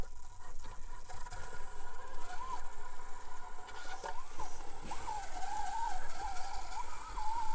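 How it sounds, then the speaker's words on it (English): Small electric motor of a custom FMS FCX24 RC crawler truck spinning at the rear, a steady high whine that wavers in pitch, close and continuous over scraping handling noise. "Look at that motor spin in the back."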